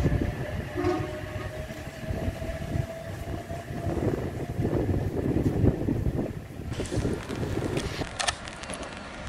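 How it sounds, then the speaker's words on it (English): An Oscar set H20 electric train departs platform 1 at Corrimal station, a loud near rumble of rolling wheels and motors with a horn tone, building and then easing off as it moves away. "Here we have Oscar set H20, now departing platform number 1."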